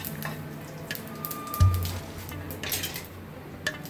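Oil heats in a pan with cumin seeds and a pinch of asafoetida over a low flame, giving a faint, steady sizzle and light crackling, with a single metallic clink partway through.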